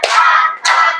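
Children clapping in unison for the tepuk ihsan clap chant in a primary school classroom, two quick bursts of hand claps close and fairly loud, with no voices over them.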